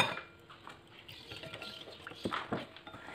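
Batter for Indomie and egg being stirred in a bowl, with soft irregular clinks and scrapes of a utensil against the dish, fairly quiet and close.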